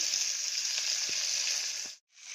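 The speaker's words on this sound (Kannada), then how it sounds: "ತೊಂಡೆಕಾಯಿ ಈರುಳ್ಳಿ ಹಾಕ್ತೀನಿ ಇದರೊಳಗಡೆ ಎಲ್ಲ ಹಾಕ್ಬಿಟ್ಟು ಫ್ರೈ ಮಾಡ್ತೀನಿ ಸ್ವಲ್ಪ ಹೊತ್ತು" Chopped ivy gourd and onion fry in a pan with a continuous, even sizzle close by that cuts out abruptly near the end before resuming.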